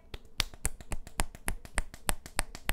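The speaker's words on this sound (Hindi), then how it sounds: "यहाँ सभी बच्चे पूनम के लिए जोरदार तालियां बजाने लगते हैं" Children clap for a girl who has just sung, a quick run of sharp, separate claps at a brisk, slightly uneven rhythm, close and fairly quiet, with no talking.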